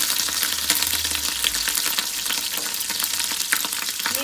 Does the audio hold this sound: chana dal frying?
yes